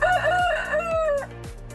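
A rooster on a small dairy farm that also keeps about forty hens gives one loud, close crow lasting over a second, with a ringing, harmonic rise and fall and no talking.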